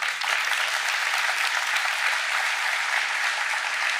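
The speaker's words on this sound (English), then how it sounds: "please, a big round of applause for Viktor" Steady, dense audience applause fills a conference hall for a speaker named Viktor after a GitOps talk, loud and continuous throughout with no pauses.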